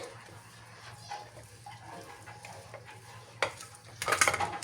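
Turmeric and spice paste being mixed into chicken in a bowl, with soft, irregular squelching and stirring sounds, and a few louder clinks of a utensil against the dish near the end.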